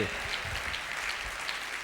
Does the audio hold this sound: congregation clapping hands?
yes